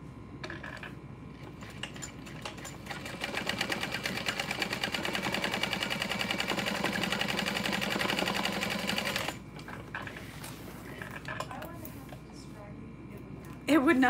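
A sewing machine runs a long top-stitching pass on a messenger bag, its rapid needle clatter rising for several seconds and then stopping, with softer handling noises before and after.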